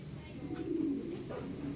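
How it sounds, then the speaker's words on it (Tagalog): Pigeons in a breeder's loft: one gives a soft, low coo close by, set against a dull background rumble. "Ayan mga ibon natin."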